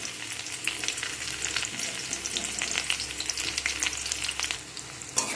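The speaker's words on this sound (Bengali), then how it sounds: "রসুনটাকে একটু অল্প নাড়াচাড়া করে" Chopped garlic sizzling in hot oil in a pan as it is stirred, a dense crackling fry with frequent sharp spatters and light scraping, close and continuous until it eases slightly at the end.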